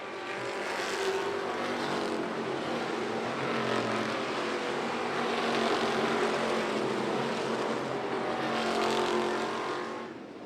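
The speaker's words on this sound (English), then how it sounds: "Tovett now has a 5-car length advantage over Joe Belke as they work off of turn number 4" Thunderstock race cars roar around the dirt oval at Volusia Speedway Park, a loud sustained pack of engines swelling and fading as they pass, with no talk over them.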